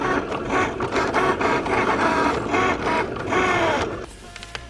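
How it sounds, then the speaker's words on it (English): A small motorized machine, likened to a 3D printer, producing music notes gives a quick run of close buzzing, whirring strokes in short rhythmic bursts, like a printer head moving back and forth, then stops with a few faint clicks. "This thing is like a 3D printer."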